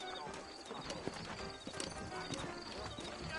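Horses in the Red Dead video game clip-clop steadily at a walking pace, with a voice talking over the hoofbeats.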